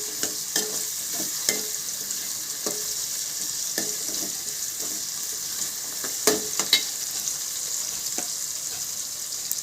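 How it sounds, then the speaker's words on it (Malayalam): Ingredients for a Kerala choora fish curry, with garlic, are stirred in a pan over a high flame, making a steady close sizzle broken by repeated scraping clicks from the spoon. "ഹൈ ഫ്ലെയിമിലിട്ടാണ് ഇളക്കുന്നത്."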